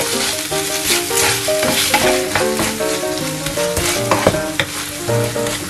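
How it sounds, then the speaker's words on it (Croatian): A spoon stirs a sour cream and mustard mixture in a kitchen, with soft scraping and wet rhythmic strokes. Loud sizzling and background music run throughout. "Pa sve to promešati"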